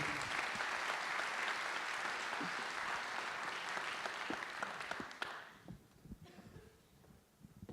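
An audience applauds a jury president being called up at an event, sustained dense clapping for several seconds that thins abruptly into a few scattered claps and room noise.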